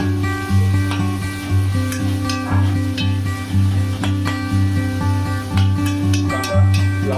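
Onions sizzle and fry in a pan, a steady hiss with scraping and stirring clatter, while music with a regular beat plays loudly over it.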